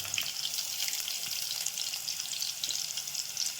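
Carrot pieces frying in a pan with ginger, preparing upma: a steady close hiss of sizzling oil with soft crackle, even throughout and without any talking.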